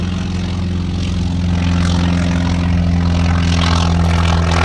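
An FM2 Wildcat propeller fighter at an air show, its piston engine giving a loud, steady, droning roar that holds close and constant throughout, with no talking.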